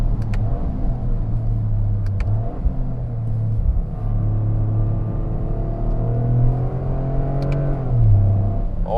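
A 2025 Toyota GR Corolla hot hatch with an 8-speed automatic gearbox accelerates hard, its loud engine drone climbing in pitch. The drone drops back at each gear change, repeating several times with no talking.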